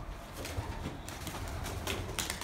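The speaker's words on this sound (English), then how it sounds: "There's just a whole nest of pigeons." Pigeons in an abandoned slaughterhouse give low, soft coos amid rustling and fluttering, fairly close and continuous for a few seconds.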